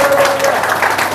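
A church audience at a pastor's sermon breaks into brief, loud, dense applause, many hands clapping at once with voices mixed in.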